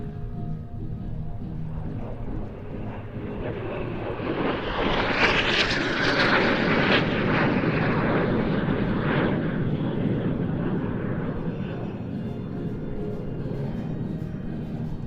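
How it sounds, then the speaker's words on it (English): Two aerobatic planes flying a line-astern double barrel roll at an airshow practice in Leszno, their engine roar swelling loud to a peak midway and then holding steady as they pass overhead. "Keeping our eyes out for the two-ship now, coming in for a line-astern double barrel roll."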